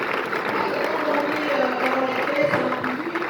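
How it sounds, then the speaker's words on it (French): An audience at a live event applauds in a continuous, moderately loud wash of clapping, with a faint tonal hum running beneath. The sound is even and sustained with no talk over it. "Est-ce que vous pouvez applaudir très fort?"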